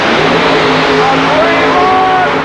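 A super modified mud racing car at a 1989 Evansville, Indiana mud race roars at full throttle, a loud, continuous engine drone with rising pitch as it pushes ahead, overlaid by an announcer's commentary.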